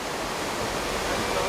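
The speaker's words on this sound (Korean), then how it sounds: "산간지방에 큰 비가 오거나 지금과 같은 장마철에나 웅장하게 떨어지는 폭포수를" Eongtto waterfall during the rainy monsoon season, crashing as a continuous dense roar of falling water, steady and loud with no voices.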